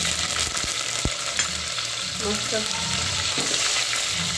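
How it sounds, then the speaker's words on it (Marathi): Curry leaves hit hot oil for a Marathi amti tempering and sizzle and crackle steadily, with sharp pops and splutters over the continuous frying hiss while a voice speaks briefly. "आता आपण याला कढीपत्त्याची फोडणी देऊया"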